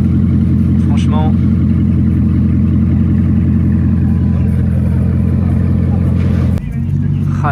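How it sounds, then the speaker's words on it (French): Bugatti Bolide hypercar driving in Paris, a loud, deep steady engine drone held close throughout, shifting in tone near the end, with talking over it. "là je vous filme la Bugatti bolide en train de rouler"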